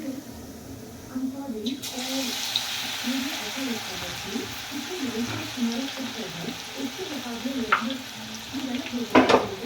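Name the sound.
cumin and garlic sizzling in hot oil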